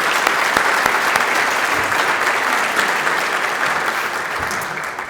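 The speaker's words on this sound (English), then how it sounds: "Our next round of applause." Audience applauding at a school district teachers and staff tribute dinner, dense sustained clapping from a large room that holds steady for several seconds and slowly tapers, with no voices over it.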